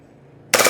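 Airsoft Glock 18C pistol fires a short, loud full-auto burst that starts abruptly after a quiet lead-in and lasts only a fraction of a second.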